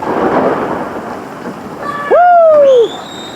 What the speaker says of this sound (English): Y'all hear the thunder?